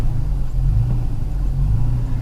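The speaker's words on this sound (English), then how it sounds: "you can hear the engine on the truck" Toyota Tacoma truck engine fitted with a Pedal Commander throttle controller in Sport Plus mode, a steady low idle rumble held close and loud with no talking.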